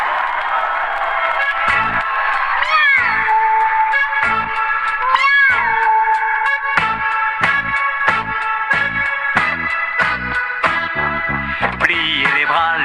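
Bright, loud music for a children's dance song, with meow-like sliding cries over rhythmic pulses that stop and start, playing throughout with no talking.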